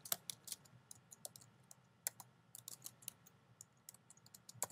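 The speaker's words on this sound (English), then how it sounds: "Oops, I'm not typing well today," Quick, uneven keystrokes clatter on a computer keyboard while filling in an online form, close and fairly quiet, in short irregular bursts with brief pauses and no talking.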